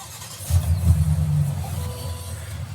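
A 2021 Chevy Tahoe Z71 engine fires up close by, a short crank that catches into a low, rumbling idle which swells briefly and then settles into a steady hum.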